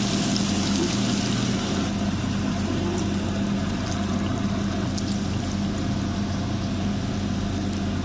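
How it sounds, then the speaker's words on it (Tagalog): Water pours steadily for several seconds, a continuous rushing splash into a pan, close and fairly loud, with no voices. "dagdagan natin ng tubig"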